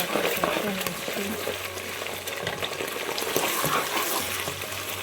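Chopped garlic frying in a pan of hot oil for Sylheti satkora pickle, a loud, dense, continuous sizzle close by, with a voice talking faintly underneath.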